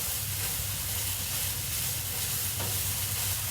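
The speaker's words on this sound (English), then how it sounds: "So you can kind of see our potatoes have been cooking in there. I'm gonna give these a stir." Potatoes for a hash being stirred in a hot pan, a steady close sizzle and hiss throughout with faint scraping from the stirring.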